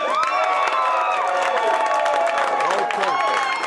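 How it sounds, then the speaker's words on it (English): A dense crowd at a Plainfield, New Jersey city council event claps, cheers and whoops loudly and without a break, welcoming new council member Rebecca Williams. "All the people clapping of Rebecca Williams"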